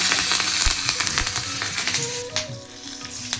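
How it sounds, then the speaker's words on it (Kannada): Mustard seeds, cumin, chana and urad dal, asafoetida and curry leaves sizzle and crackle loudly in hot oil for a chutney tempering, with dense popping and sputtering throughout, close to the pan. "ಒಗ್ಗರಣೆ ಮಾಡ್ಕೊಂಬಿಡೋಣ. ಇದಕ್ಕೊಂದು ಸಾಸಿವೆ, ಜೀರಿಗೆ, ಕಡಲೆಬೇಳೆ, ಉದ್ದಿನಬೇಳೆ, ಹಿಂಗು, ಸ್ವಲ್ಪ ಕರಿಬೇವಿನ ಸೊಪ್ಪು."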